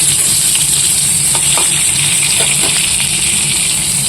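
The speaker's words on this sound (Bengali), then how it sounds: "এদিকে বসিয়েছি বেগুন ভাজা" Eggplant slices frying in a pan, a loud close sizzle with bubbling oil and a few light stirring clicks, continuous throughout.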